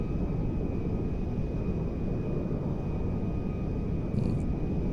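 Air Force One jet on a short landing approach in the video game GTA 5, with a steady, loud engine roar and rumble filling the whole stretch without a break, seen from the inside cockpit view.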